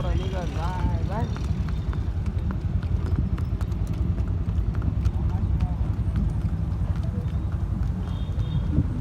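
Horse hooves clip-clopping at a steady pace under loud outdoor rumble, with people talking and shouting over the hoofbeats.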